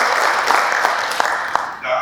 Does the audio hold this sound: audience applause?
yes